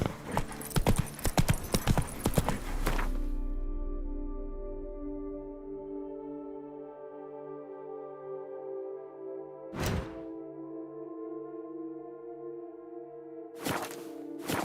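Horse hooves clip-clop in a fast run in Witcher 3, a rapid close thudding that stops around three seconds, followed by a lingering musical drone and a few isolated sharp hits later on.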